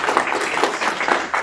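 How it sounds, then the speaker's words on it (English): An audience applauds for David, a dense, even wash of many hands clapping at close to medium distance throughout. "Round of applause to David."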